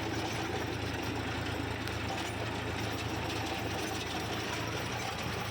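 Tractor and rotavator tilling hard, dry field ground for a chickpea crop: a steady, dense engine drone with rapid clattering blade noise, loud and constant throughout, and no speech.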